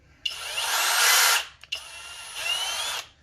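A power drill bores through a mount for rock lights on a Honda Talon in two close, loud whining bursts, the first longer, separated by a short pause.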